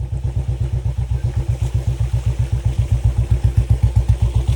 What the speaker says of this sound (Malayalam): ഞങ്ങളിപ്പോൾ ബൈക്കിലാണ് പോകുന്നത്.